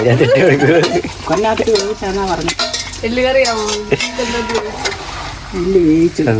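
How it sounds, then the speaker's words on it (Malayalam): A spoon stirs bone curry gravy in a pan, scraping and clinking against the metal amid light sizzling, while a person talks over the cooking sounds. "ആ ഗ്രേവി എല്ലാം കൂടെ ഒന്ന് ഇളക്കി ചേർത്തെടുക്കണം"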